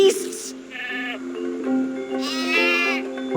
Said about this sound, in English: Hugo, they're just sheep.